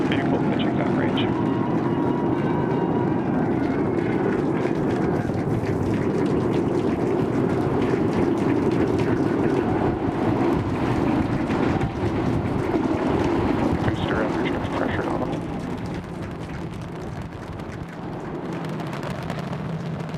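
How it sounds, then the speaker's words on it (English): SpaceX Starship booster lifting off with 33 Raptor engines firing: a loud, continuous, rumbling roar that holds steady for about fifteen seconds, then eases slightly and carries on more distantly. "We are seeing 33 out of 33 Raptor engines ignited"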